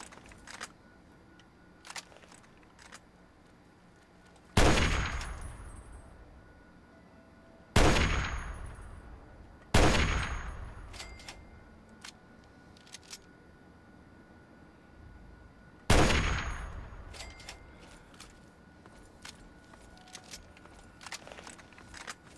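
Four loud lever-action rifle shots from the game Fallout 3, spaced a few seconds apart with ringing decay after each, over a low ambient background.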